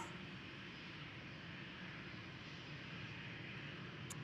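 A Delta airliner taxis at Amsterdam Schiphol Airport, its engines giving a faint, distant, steady roar that holds unchanged throughout.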